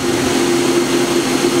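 A Hitachi Seiki HT-20SIII CNC turning center spinning at 2800 RPM gives a steady, loud mechanical whine and hum, continuous and unchanging throughout, with no talking.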